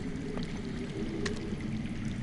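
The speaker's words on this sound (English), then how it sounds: "I hear water. From underground." Underground water flowing in a Game of Thrones video game, a steady rushing pour with faint splashy ticks, fairly close and continuous with no voices.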